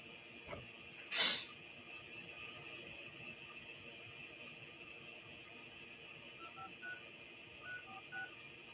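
A quick sequence of telephone keypad dialing tones placed for a cold call, faint, steady beeps over a quiet hum with a brief burst of noise near the start.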